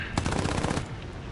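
Aircraft guns in the War Thunder video game firing a rapid, loud burst of close machine-gun shots lasting under a second, then fading into low engine rumble.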